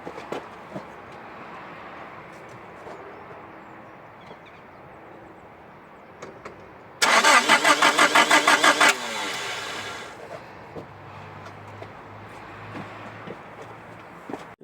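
A Nissan Silvia S12 200SX with an ignition coil fault cranks over for about two seconds in a loud, even starter chatter that does not catch, then falls back to quiet background noise.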